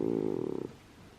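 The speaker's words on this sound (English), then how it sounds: "It's like a purring though, isn't it? It's his version of purring." A pet gives a rhythmic, purr-like rumble, a close pulsing low vibration for about half a second before it fades into quiet room tone.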